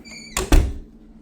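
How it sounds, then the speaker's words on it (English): A closet door in a living room of a valley home opens with a sharp wooden thunk followed by a second heavier knock, brief and close, with no talk over it. "some nice closet space right behind this door"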